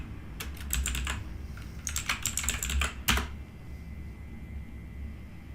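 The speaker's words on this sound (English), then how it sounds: "And then if we go into the account here, user, and then we type in admin." Typing on a computer keyboard: two quick bursts of clicky keystrokes, close and distinct, followed by one firmer key press and then quiet room tone.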